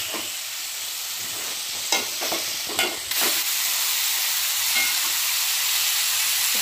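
Onions, garlic and green chili sizzle steadily in a hot pan with oil, a dense continuous frying hiss broken by several scraping stirs of a spoon against the pan.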